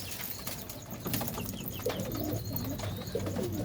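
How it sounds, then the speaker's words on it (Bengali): Pigeons feeding on wheat coo softly and repeatedly amid pecking and faint wing flutters, close by in a quiet loft, with no talking. "দেখুন কি সুন্দরভাবে গম খেয়ে নিল সব পায়রা"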